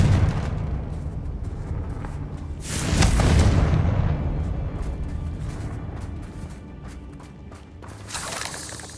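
A Confringo blasting spell in Hogwarts Legacy bursts into a loud, booming explosion with a crackling, shattering tail over a steady rumble of combat, and a second smaller burst follows near the end.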